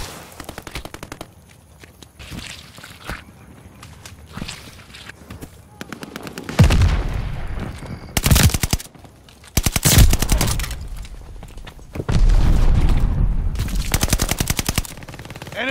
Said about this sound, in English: Enemy's got a death machine coming in.